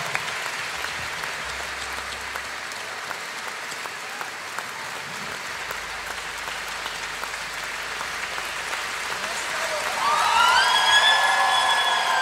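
An audience at a live concert at GORS claps steadily throughout, and the applause swells louder near the end as music starts back in.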